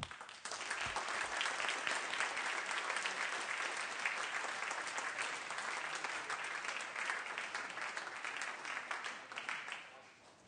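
Sustained applause fills the Senate chamber as senators welcome honored guests, dense steady clapping from a large room that carries on for about ten seconds before starting to taper off.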